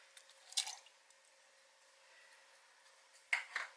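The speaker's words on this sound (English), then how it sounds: "Also, I am adding the sea moss." Sea moss drops into water in a NutriBullet cup, giving two short wet plops and squishes about three seconds apart, faint and close, with near silence between.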